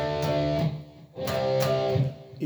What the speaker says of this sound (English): The power chords should be with overdrive